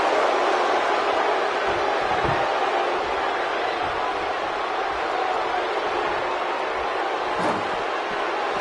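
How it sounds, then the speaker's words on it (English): A raucous arena crowd roars in the WWE 2K19 wrestling game at a Philadelphia show, a dense, steady wash of cheering that holds at a constant loud level throughout. "We've got a raucous crowd here in Philadelphia tonight"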